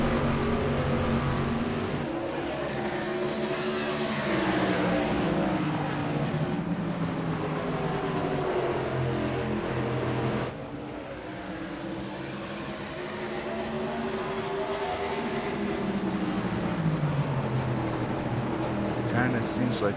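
Race cars from iRacing's SRL M9 Modified Tour at Lakeland run a few inches apart through the corners. A steady, loud engine drone rises and falls throughout, with a commentator talking over it.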